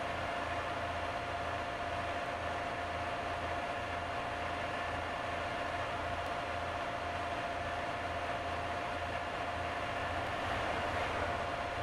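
Steady, loud rushing rumble of a Class 143 DMU train passing close by on the Riviera Line in Train Simulator 2017, with a constant mechanical drone and rattling throughout.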